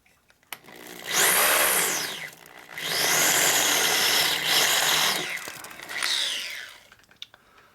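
A power tool runs in bursts while cutting threads on a 1983 FLTC 80 ci shovelhead motor part, a high whirring whine rising and falling across four runs with pauses between, close and loud.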